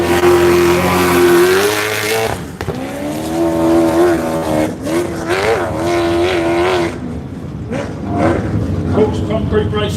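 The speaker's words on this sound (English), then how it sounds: "Cook's Concrete Racing off the start line, number 10. Very, very fast." Number 10 race car at the Loveday 400 launching off the start line, its engine revving loudly with rising and falling pitch, blended with other motors and a public-address commentator talking over the noise.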